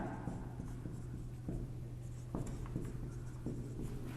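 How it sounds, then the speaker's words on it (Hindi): Chalk or marker strokes as examples are written on a board during a Hindi grammar lesson, a steady series of short scratchy taps over a constant low room hum, with no speech. "अब यहां जैसे मैं 3 एग्जाम्पल लिखता हूं"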